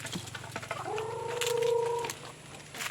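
A chicken gives a drawn-out, wavering call in the open, with faint clucks and rustling around it.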